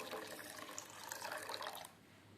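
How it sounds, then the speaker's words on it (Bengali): Rice grains being rinsed by hand in water, two cups washed for Basanti pulao, with a steady close splashing, sloshing wash that runs continuously and then stops abruptly near the end, leaving quiet room tone. "এবার জল দিয়ে ভালো করে আমি ধুয়ে নেব"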